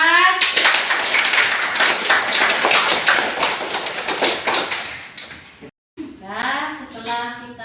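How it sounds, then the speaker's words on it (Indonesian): Applause for group 4 after a classroom presentation, a steady burst of many hands clapping for about five seconds, then a voice speaks over it. "Kita kasih aplaus sekali lagi untuk kelompok 4"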